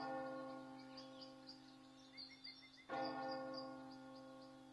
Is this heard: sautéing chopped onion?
no